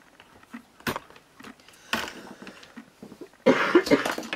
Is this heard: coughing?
yes